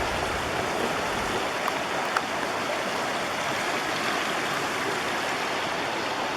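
A creek flows steadily close by, a dense, even rushing and burbling of water that continues without pause throughout.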